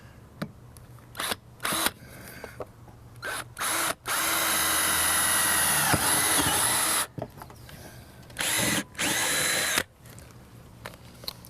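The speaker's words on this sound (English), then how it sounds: "All I need to do now is drill a hole through the wall up into the cupboard" A power drill runs in several short bursts, then grinds steadily for about three seconds, followed by two more brief bursts, loud and close, as it drills a hole through an RV wall up into a cupboard.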